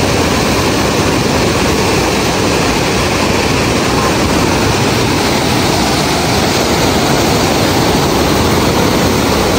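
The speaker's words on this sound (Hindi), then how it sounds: "पानी का आवाज़ और पानी की तेजी चेक करें माशाल्लाह।" Water at the head of a large canal rushes and churns in a loud, steady, broadband roar that fills the scene continuously, with no pauses and no voices.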